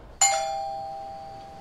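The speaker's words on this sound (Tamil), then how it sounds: "காலையில் 5 மணிக்கு காலிங் பெல் அடிச்சிச்சு." A doorbell (calling bell) rings once at five in the morning, a bright single ding that starts sharply and lingers in a long, slowly fading tone in a quiet room.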